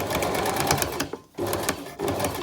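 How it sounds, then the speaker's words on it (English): A sewing machine runs steadily while stitching a few millimetres from an existing seam on a rouleau loop strip, with a brief pause near the middle before the close, busy whirring resumes. "I'm going to stitch all the way along, sewing a few millimetres from this original seam line here."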